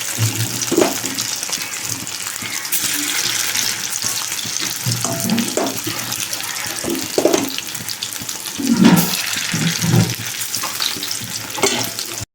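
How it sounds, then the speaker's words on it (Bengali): Chicken pieces fry in a pan for chilli chicken, a loud continuous sizzle with intermittent scraping and clattering stirs, close up, plus a few heavier bumps near the end. "চলো চিকেনগুলো ভেজে নিই"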